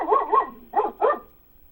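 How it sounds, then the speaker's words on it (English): A dog gives four quick, expressive barks in two pairs, close and fairly loud, then falls quiet. "That dog is very expressive."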